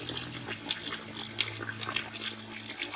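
Water poured into a basket over raw merino wool fiber, a soft continuous splashing and trickling with faint bubbling, quiet and steady throughout.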